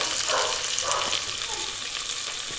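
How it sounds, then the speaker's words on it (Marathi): Garlic-ginger paste sizzles and spits in hot oil for a village-style chicken dish, a soft, steady frying hiss that stays fairly quiet throughout. "आता आपलं तेल तापले लसूण आलं लसूण पेस्ट टाकून घ्यायची"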